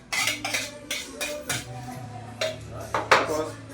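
Dinakdakan ingredients, with calamansi, onion and ginger, being mixed in a bowl: a run of clinking, scraping utensil strokes against the dish, close and moderately loud, with faint background sounds and no talk.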